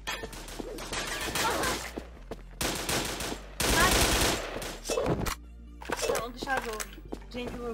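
Heavy automatic gunfire in a shooter video game, repeated loud bursts of rapid shots separated by short gaps, with players talking over the fighting.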